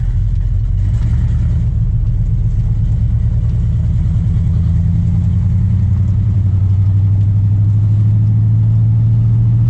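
A 1980 Chevy C10 pickup with a 700R4 automatic transmission driving, its engine a loud, close low rumble that climbs in pitch and then settles lower as the gearbox shifts, with no talking.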